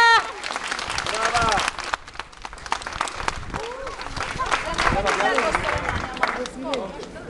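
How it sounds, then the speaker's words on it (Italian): Guests at an Italian wedding clap in a lively burst of applause mixed with cheering and chatter, loud and close, with voices talking over and between the claps throughout. "facciamo un bel applauso, forte"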